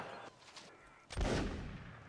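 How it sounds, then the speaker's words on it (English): Cannon fire booms in Mount & Blade: Napoleonic Wars, one heavy blast after a brief quieter stretch, its low rumble trailing off over the battlefield with no voices. "Oh, cannons, look at that."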